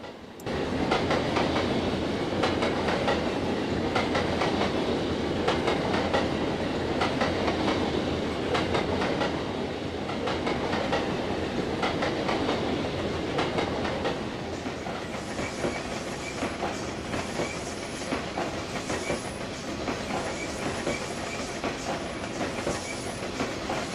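Norfolk Southern freight train with an ex-Conrail 840CW trailing in Conrail livery, on the Fort Wayne Line in Trainz 2022, rumbling past loud and steady with clattering wheels and a faint squeal late on.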